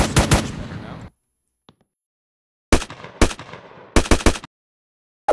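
Gunfire from guns in the Roblox ACS Engine 2.0 gun system comes as sharp bursts of rapid shots, a long opening volley and then several short clusters separated by silence.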